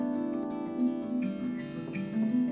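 Fingerstyle guitar plays harp harmonics, bell-like false harmonics blended with fretted real notes in a gentle cascading pattern, soft and close with no talking.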